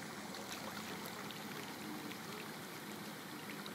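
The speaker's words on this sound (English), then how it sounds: "It's a road that became a river." Floodwater rushing down a road turned into a river during a major flood from Hurricane Irene in Puerto Rico, a steady broadband roar of flowing water close by, continuous with no speech.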